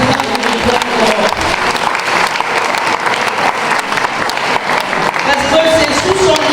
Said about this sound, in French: Je voudrais qu'on applaudisse pour la présidente du RIPREM Europe.